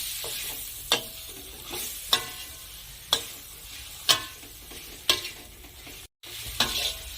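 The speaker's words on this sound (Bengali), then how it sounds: "এখন সব কিছু আমি ভালো করে নেড়ে চেড়ে কষে নেব।" Coriander powder and Kashmiri red chilli powder fry in a pan for vegetarian khichuri, a constant sizzle broken by sharp spatula scrapes about once a second in a steady rhythm.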